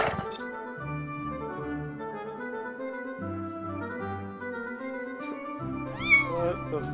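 A cat meows in the video game Jazzpunk, a few drawn-out, tonal cries in a row that end in a sharper rising yowl, close and fairly clear over a faint background.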